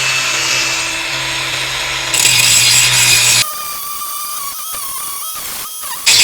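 An APR AP22PRO cordless angle grinder, battery powered, runs loud and steady at speed setting 3, its high whine holding, then rising briefly before dropping to a thinner tone with a final short burst at the end.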